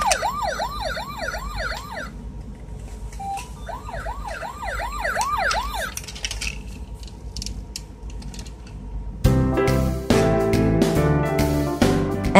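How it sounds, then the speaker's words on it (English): A toy ambulance siren wails in rapid repeating sweeps, pausing briefly before starting again, then gives way to a burst of clanging, percussive sounds. "Ambulance. Ambulance."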